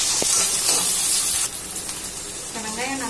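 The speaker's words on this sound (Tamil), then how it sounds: "சேர்த்து 1-5 நிமிஷம் போல நல்லா எண்ணெயில் இது நல்லா வந்து ஃப்ரை ஆகணும்." Sliced onions fry in hot oil for a pepper kuzhambu, giving a steady close sizzle and hiss that eases slightly midway, with a brief voice near the end.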